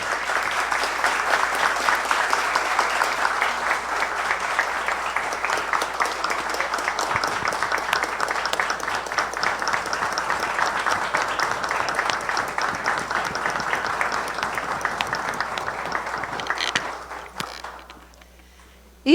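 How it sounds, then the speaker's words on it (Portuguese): Sustained audience applause fills a municipal council chamber in session, a dense steady patter of many hands that holds evenly for most of the stretch, then tapers off and stops near the end. "E vamos dar uma salva de palmas"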